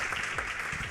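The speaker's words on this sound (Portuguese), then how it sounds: "isso merece uma salva de palmas para eles" Audience applause fills a conference hall at a customer-experience event on accessibility and inclusion, a steady dense wash of clapping held at even loudness through the whole short stretch.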